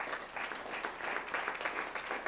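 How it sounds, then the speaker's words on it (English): Attendees at a school district board meeting clap together in steady, fairly distant applause for student achievers, an even wash of many hands throughout. "let's give them another round of applause"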